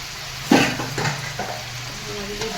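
Fish sizzling as it goes into hot oil in a pan for Bengali pekal fish curry, a sharp splash of frying followed by steady crackle, with faint utensil clinks.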